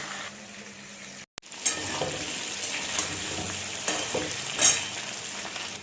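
Potato pieces for aloo karahi sizzle and fry in a pan over a high flame, with a steady hiss broken by scraping stirs of a spatula, close and moderately loud, no talking.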